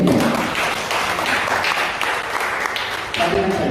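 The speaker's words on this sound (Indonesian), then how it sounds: "Tepuk tangan bagi juga lebih baik." Applause from a church congregation at an Indonesian family blessing service in Bali, a steady dense wash of clapping that carries on throughout with voices mixed in.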